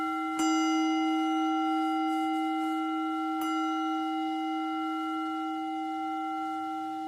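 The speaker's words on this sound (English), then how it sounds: "So I'm going to start with a bell." A meditation bell is struck twice to open a love and compassion practice, each clear metallic strike ringing out into a long, sustained, slowly fading tone in a quiet room.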